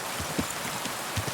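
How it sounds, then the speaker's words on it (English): Heavy rain falling in the medieval open world of Kingdom Come: Deliverance II, a steady hiss of downpour with a few soft louder drops, fairly quiet and with no one talking. "It's raining hard."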